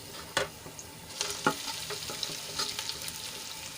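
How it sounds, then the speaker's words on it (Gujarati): Boiled potatoes hit a pan of sautéed chillies, producing a soft frying sizzle with a couple of sharp spatula knocks and light scraping as they are stirred; no speech. "આપણા મરચાં સંતળાઈ ગયા છે તો હવે એમાં આપણે બાફેલા બટેટા એડ કરી લેવાના છે"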